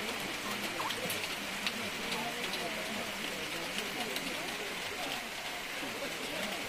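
Steady rain falls at an elephant camp café in Chiang Mai, a dense even patter on surfaces that runs continuously and fairly loud throughout.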